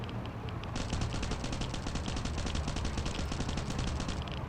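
Rapid bursts of automatic gunfire in the video game Last Island of Survival rattle steadily for several seconds, a fast regular stream of shots over a rumbling background, with a sharper shot near the start.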